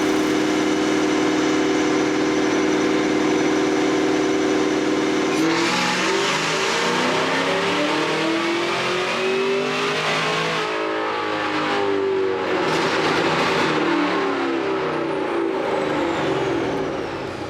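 A 650HP Camaro ZL1 engine holds a loud steady drone, then sweeps up through the revs in a sustained run on a power test, its roar rising and falling with no talk over it.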